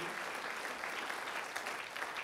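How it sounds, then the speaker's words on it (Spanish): Churchgoers clapping in praise during a sermon, a fairly quiet, continuous patter of many hands that holds evenly through the moment with no speech over it. "aplaudimos al Señor"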